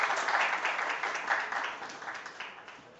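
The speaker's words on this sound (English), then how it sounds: "Please give a big round of applause." Audience applause at an academic conference felicitation session at a college physics department, with a dense wash of clapping that starts loud and slowly fades over a few seconds.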